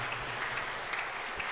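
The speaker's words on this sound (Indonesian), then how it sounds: "Jadi kita beri tepuk tangan juga buat mereka." A church congregation applauds during Mass, a brief, even burst of many hands clapping at moderate distance.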